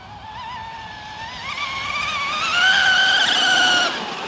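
A JAE 33FE nitro RC car at full throttle through a fast corner, its high-pitched engine whine rising steadily and peaking before easing off slightly, loud and fairly close with no talk.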